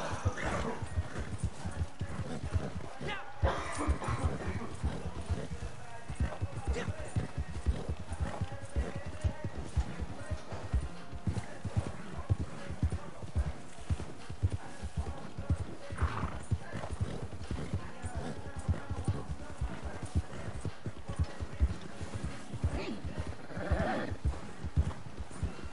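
Horse hooves clip-clop in a steady, continuous rhythm throughout a ride in Red Dead Redemption 2, with a few neighs breaking through the hoofbeats against a dense outdoor game backdrop.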